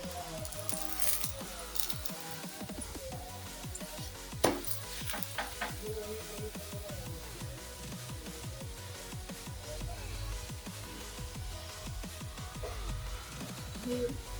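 Coriander paratha frying in a little oil, a faint, soft sizzle with light clinks of a utensil against the pan and occasional scraping.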